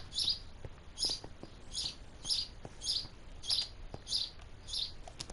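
Birds in Minecraft chirp in a repeating pattern, about nine short high tweets spaced roughly half a second apart over a quiet background with faint clicks.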